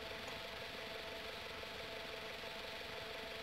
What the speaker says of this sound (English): It's a quad bike.